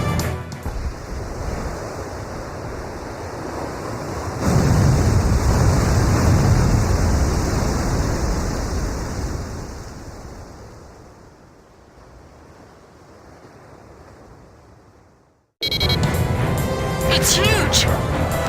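In the Ace Combat 5 video game, a massive submarine surfaces from the ocean with a loud rushing wash of water and wind-like roar that swells, slowly fades, cuts off, then returns abruptly.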